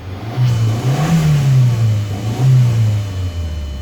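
2002 Volkswagen Passat 1.8 turbo engine revving near and loud, climbing through a couple of throttle blips and settling back between them, with no talk over it.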